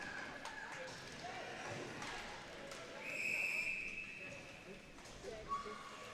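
A referee's whistle sounds one short, sharp blast in an arena during a national para hockey championship game between Alberta and Ontario, heard beneath continuous commentary and crowd murmur.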